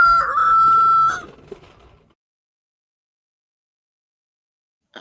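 A rooster crows once, loud and close outside an open window in spring, and the call tails off into a faint cluck before near silence.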